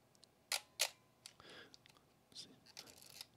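Praktica BMS camera with an electronic shutter firing at a slow speed: two crisp, quiet clicks a fraction of a second apart, followed by soft mechanical ticks and faint handling noise.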